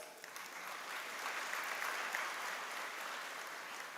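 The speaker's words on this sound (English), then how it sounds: "Let us convey our heartfelt thanks to him with your enthusiastic claps." Audience applause for the guest of honor at a university freshers' induction ceremony, a dense, even wash of clapping from a large hall, somewhat distant and sustained without pause.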